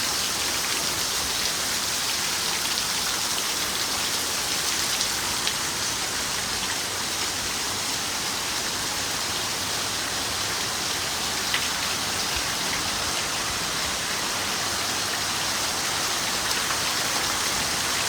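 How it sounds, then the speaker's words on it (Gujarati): Heavy rain pours down steadily and loudly in a monsoon downpour near a buffalo shed, with wind, forming a dense, unbroken hiss that lasts the whole stretch without voices. "વરસાદની ગતિ વધી રહી છે મિત્રો"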